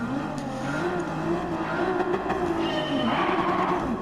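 Nissan Skyline GT-R engine roaring steadily under throttle in the Gran Turismo 7 racing game, a continuous loud drone with shifting pitch and faint tire squeal, no talking.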